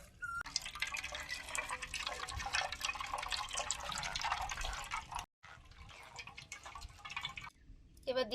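Blended watermelon juice pours and drips through a kitchen strainer in a continuous close splashing trickle, cutting out briefly near the middle and again near the end.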